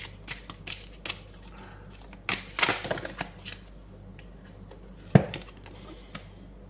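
Tarot cards shuffled by hand in a scorpio horoscope reading, giving soft papery riffles and flicks in scattered bursts, with a louder flurry midway and a sharp snap near the end.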